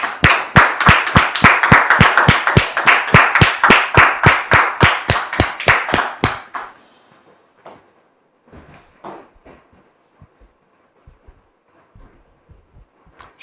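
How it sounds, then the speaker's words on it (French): Audience applause greets a woman as she is welcomed onto a French stage, with loud, dense, rhythmic clapping for about six seconds that stops abruptly, followed by quieter room noise and a few faint sounds. "sous vos applaudissements, s'il vous plaît."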